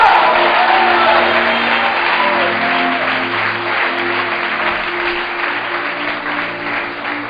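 A church congregation cheers and applauds for Jesus with sustained loud clapping and scattered shouts, while a voice talks over the crowd and a low musical drone sounds beneath.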